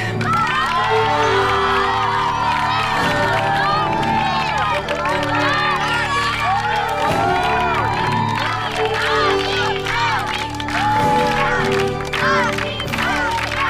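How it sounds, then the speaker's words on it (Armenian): A studio audience on an Armenian camp-themed TV show cheers, whoops and shouts loudly and continuously, with children's voices in the dense crowd noise and some applause mixed in. "բրավո, ծափահարեք"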